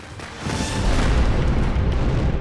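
Fireworks blasting at the Yanshui firework festival, where huge numbers of firecrackers are set off above the crowd. A dense, continuous roar of booms and crackling bursts swells after the first half-second and then holds loud and unbroken.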